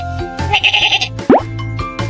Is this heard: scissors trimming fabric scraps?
no